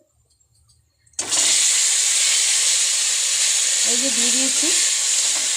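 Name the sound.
taro greens added to hot oil sizzling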